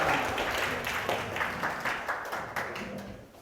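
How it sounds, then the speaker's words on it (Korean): Audience at a concert-style talk event gives a round of applause, a moderate, fairly distant wash of steady clapping that tapers off near the end. "두 분의 리더님들께 큰 박수 부탁드리겠습니다"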